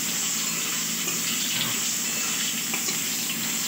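Water poured steadily into a pot holding aubergine and vegetables, a continuous close gushing splash with no talk over it.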